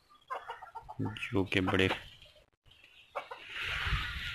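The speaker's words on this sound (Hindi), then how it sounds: "ये हमारे घर के मुर्गियाँ मुर्गे, सील मुर्गियाँ सील मुर्गे" Chickens and roosters cluck at a village home, with short fowl calls at close range alongside someone talking.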